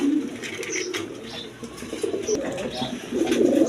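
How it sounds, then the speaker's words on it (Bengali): King pigeons coo steadily and close by, low throaty calls repeating through the whole stretch, with a few faint chirps mixed in and no talking. "দর্শকবৃন্দ এইখানে এক পেয়ার কবুতর আছে কোয়ালিটি সম্পন্ন কবুতর আপনার কিং কবুতর"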